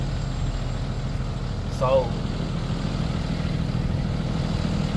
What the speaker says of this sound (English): truck sound good, I ain't gonna lie.